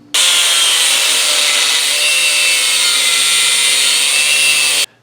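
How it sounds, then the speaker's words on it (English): An angle grinder notches a steel clutch pedal piece for a 1970 Mustang manual transmission swap, a loud continuous close-up whine that holds steady for about five seconds before cutting off. "So I'm going to mark this up and notch it with a grinder."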